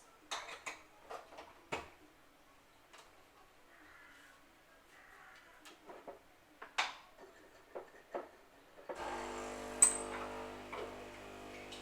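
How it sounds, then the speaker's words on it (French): A capsule coffee machine brewing coffee into a cup, preceded by scattered clinks and clatters of dishes, then a steady mechanical pumping hum that starts abruptly and runs to the end. "Ça, c'est le bruit de la cafetière."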